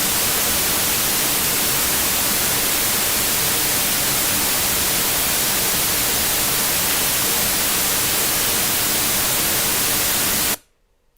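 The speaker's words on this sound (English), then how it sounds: "we're doing this white noise on purpose to find our mix at a better level" Loud, steady white noise fed through a mixing desk, a broad unchanging hiss that fills the space for about ten seconds before cutting off abruptly.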